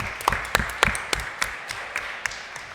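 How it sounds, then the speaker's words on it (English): Sparse, scattered clapping from a small audience at a youth mock legislative session, a few distinct sharp claps standing out over a quiet room. "please give him a round of applause"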